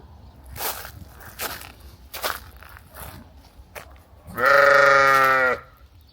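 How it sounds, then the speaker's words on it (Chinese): After some scattered rustling and footsteps, a single sheep in a rural village near the China–North Korea border lets out one loud, clear bleat lasting about a second. "绵羊啊！"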